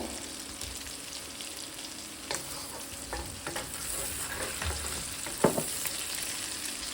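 Prawns and onion fry lightly in oil in a wok with a low, steady sizzle. Occasional utensil scrapes and knocks punctuate it, and one sharper clink comes near the end.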